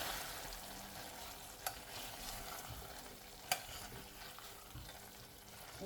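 Ingredients are stirred into a cupcake batter, giving a faint, steady soft scraping with a couple of light knocks against the bowl.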